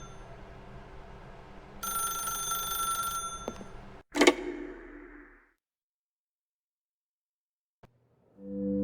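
An old-style telephone bell rings in The Stanley Parable, a steady metallic trill lasting about two seconds, followed by a sharp clatter and a fading tail before near silence.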